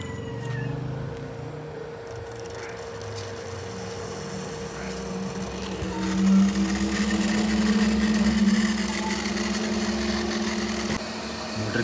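A solar-powered water pump motor runs with a steady low hum and whine, a continuous mechanical drone that swells slightly midway, with no talking over it.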